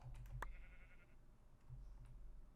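Short synthesized sheep bleats from a modded Minecraft game, a couple of brief nasal calls near the start and again toward the end, fairly quiet against a soft background.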